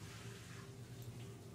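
Water runs steadily from a tap in a Life Is Strange game scene, a soft continuous low rush with no talk over it.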